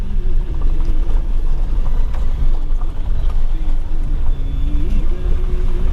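A car moves slowly along a muddy road beside National Highway 166 roadworks, with a loud, steady engine rumble and road noise heard from inside the vehicle throughout, and no one talking.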